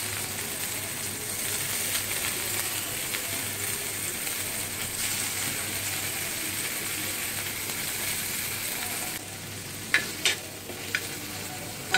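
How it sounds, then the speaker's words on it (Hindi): Paneer cubes sizzle steadily in hot oil in a pan for matar paneer, a constant close hiss throughout with a few light clinks of a utensil near the end. "पलट के इसे हम फ्राई कर लेंगे।"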